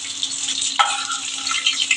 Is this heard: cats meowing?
no